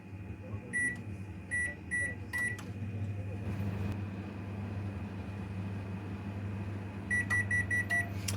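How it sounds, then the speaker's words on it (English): A microwave oven hums steadily while heating hot dogs, with bursts of electronic beeps at the start and a run of beeps at the end. "microwave those hot dogs"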